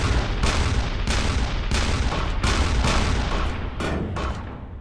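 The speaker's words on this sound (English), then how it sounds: "you get this giant revolver that actually shoots real bullets" A giant revolver firing in the video game People Playground, a rapid series of loud, booming shots in close succession, each with a short reverberant tail, filling the clip with no talk.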